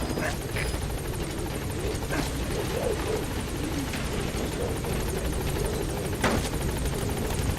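The Pequod helicopter hovers over a landing zone in Metal Gear Solid V, its rotor roar steady and loud throughout while a voice talks over it.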